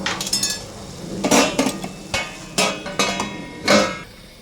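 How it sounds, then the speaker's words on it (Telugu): A lid clatters onto a cooking pot in a home kitchen, with several sharp metallic clinks and knocks spread irregularly across a few seconds, close and fairly loud, with no talking. "మూత పెట్టేసుకుందాం."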